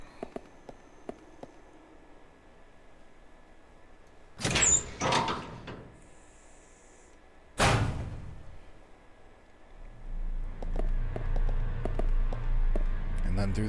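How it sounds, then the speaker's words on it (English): A door opening in the survival horror game Resident Evil 0: two loud, close mechanical bursts a few seconds apart stand out against a quiet ambient hum, followed by a low rumbling drone. "We go through this door."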